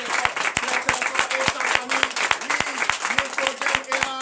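A church congregation claps loudly in a quick, even rhythm, with a voice speaking over the applause throughout.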